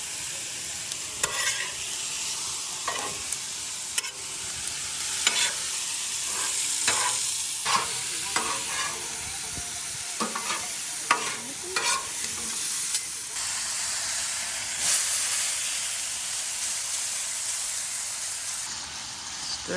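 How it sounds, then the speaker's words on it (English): A stir-fry sizzles on an outdoor Blackstone griddle, a steady frying hiss broken by frequent sharp spatula scrapes and taps against the flat-top surface, close and moderately loud throughout. "cooking together a stir-fry dish on the Blackstone Grill"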